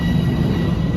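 A Metro-North commuter train pulls out of the station near a parking garage in White Plains, producing a steady loud low rumble and mechanical hum over about a second, with no voices.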